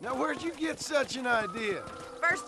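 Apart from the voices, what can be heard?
No everyday noise stands out behind the speech.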